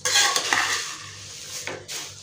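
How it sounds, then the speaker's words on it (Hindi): Poha and puffed rice tossed and mixed in a pan, a dry rustling scrape with a couple of utensil strokes against the metal, close and fairly loud, with no talking. "ये पोहा और मुरमुरा को अच्छा मिक्स कर लेंगे।"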